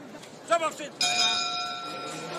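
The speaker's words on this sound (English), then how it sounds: "So there's the bell." A boxing ring bell at a pro bout clangs once and leaves a long, bright ringing tone that slowly decays, just after a brief burst of commentator talk.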